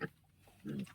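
Sow with piglets in a farm pen: two brief, soft pig grunts, faint and close, with a quiet gap between them.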